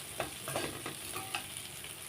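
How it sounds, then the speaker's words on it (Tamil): Onions and tomatoes sauté in a pan for mutton kulambu, a soft continuous sizzle with stirring scrapes and light taps of a spoon, close and steady with no talking. "இப்போ இந்த வெங்காயம் தக்காளி நல்லா வதங்கி வந்துருச்சு பாருங்கள்."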